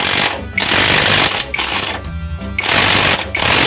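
An impact wrench or power tool rattles in loud bursts while tightening the nut on a Honda CR-V shock mount, with two long runs broken by short pauses.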